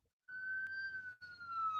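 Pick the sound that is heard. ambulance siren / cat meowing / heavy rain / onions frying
ambulance siren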